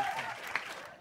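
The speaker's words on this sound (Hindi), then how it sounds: "एक बार ताली बजा लो यार" A studio audience at an Indian comedy talent show gives a short burst of dense, steady applause that tapers off slightly at the end.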